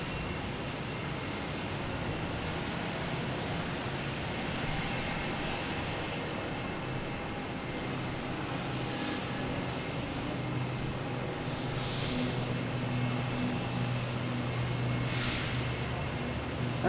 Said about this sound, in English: I have another Cape Air taking off.